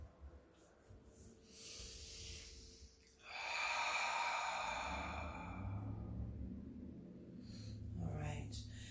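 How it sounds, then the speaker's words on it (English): During a chair yoga session, a slow, deep cleansing breath is drawn in and then let out in a long, audible, breathy exhale, close and fairly faint, with a quieter breath following. "Cleansing breath here."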